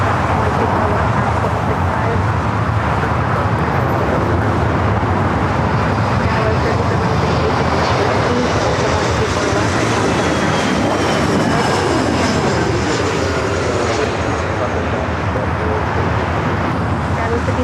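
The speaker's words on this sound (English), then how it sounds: "ITA A350-900 coming in from Rome." An ITA Airbus A350-900 lands at LAX, its jet engines producing a loud, sustained roar that builds and fades over the airport, with voices and radio chatter layered on top.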